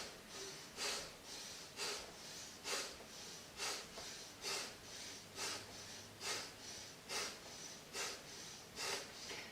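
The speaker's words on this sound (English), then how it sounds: "it's going to be that quick breath" Rapid rhythmic breathing through the nose during a quick breathing exercise, about two sharp forceful breaths per second, each a close airy snort with soft inhales between, and no talk.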